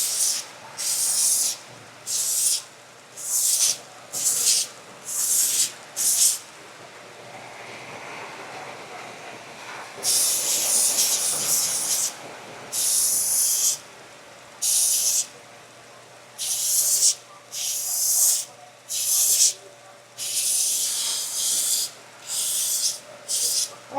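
A belt sander fitted with an 80 grit belt smooths rough knots on a native style tomahawk, roaring in repeated loud bursts of hissing grit separated by short pauses, with one longer stretch of quieter sanding.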